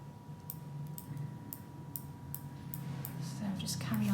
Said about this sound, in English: So we just snip away like this.